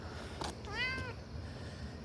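A single clear cat meow from a cat on a gate, fairly close but soft, rising and falling over about a second against quiet outdoor background noise, with no talking.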